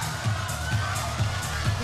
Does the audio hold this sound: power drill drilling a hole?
no